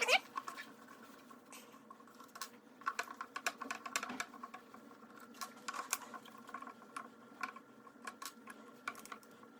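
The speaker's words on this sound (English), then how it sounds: "take out these 4 screws here. 1, 2, 3, 4, to remove this side plate" Small metallic clicks and scrapes of screws being backed out of an AK47 side plate, a rapid irregular patter close up, with someone talking over much of it.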